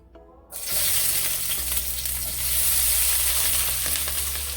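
Onions hit hot oil in a pan and burst into a loud, steady sizzle after a brief quiet moment, the frying hiss holding strong and close with no talking.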